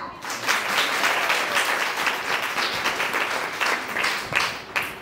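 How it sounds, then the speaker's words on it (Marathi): Loud, sustained applause from a worship congregation at a live Marathi service, steady dense clapping filling the full stretch with no speech over it. "जोरदार टाळ्या"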